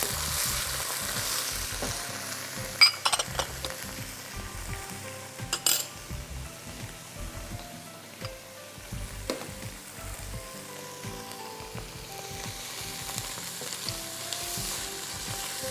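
Chopped onions sizzling in hot oil with whole garam masala for masoor pulao, a steady soft frying hiss with intermittent scrapes and clinks of stirring in the pan, fairly faint and without speech.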